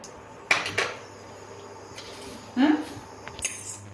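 Coriander seeds, chana dal and split urad dal tipped into a pan for a spicy drumstick-leaf powder, giving a couple of short rattling clatters against the metal, fairly close, with quiet gaps between.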